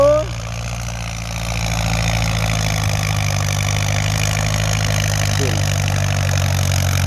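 A Ford 6600 farm tractor idling close by during pond-filling work, a steady low rumbling drone with an even, unchanging rhythm throughout.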